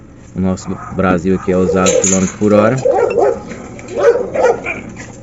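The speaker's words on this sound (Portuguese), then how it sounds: "Desculpa o cachorro latindo aí, mas uma cachorrada na rua aqui." Dogs barking on a street outside a parked 2010 Honda City, several sharp repeated barks and yips early on, fairly close, with someone talking over and after them.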